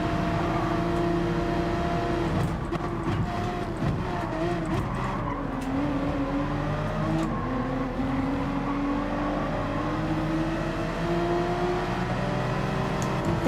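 Porsche race car engine in Gran Turismo 7 on the Dragon Trail Seaside circuit, a steady loud drone with rising and falling gear-change pitch sweeps and brief tire scrubs throughout.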